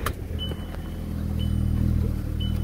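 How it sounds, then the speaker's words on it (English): A VW MK5 GTI engine idles steadily at close range, a low continuous rumble that grows slightly fuller partway through, with faint high whines recurring in the background. "So I'm going to start the car"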